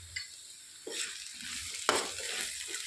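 Broad beans and green chillies fry in a pan, a soft sizzling hiss with a few scraping stirs of a spoon through the mixture, fairly quiet and close.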